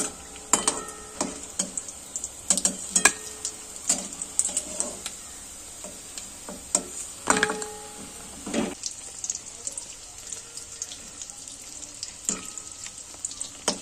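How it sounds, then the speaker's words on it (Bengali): Mung dal puli frying in hot oil, a crackling sizzle broken by frequent sharp clicks and scrapes of a utensil lifting the pieces out, close and uneven. "দেখুন এগুলো আমাদের ভাজা হয়ে গেছে,"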